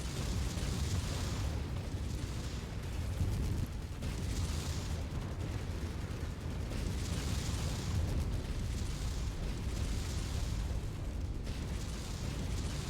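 A continuous barrage of missile explosions in the MechWarrior 5 mech combat video game, with dense rolling booms and bursts overlapping without pause, loud and sustained throughout.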